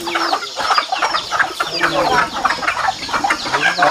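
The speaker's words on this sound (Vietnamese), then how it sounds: "Nhiều gà thế nhỉ." A large flock of chickens clucking around farm coops in a forest setting, a loud, dense, continuous chorus of overlapping clucks and squawks close by.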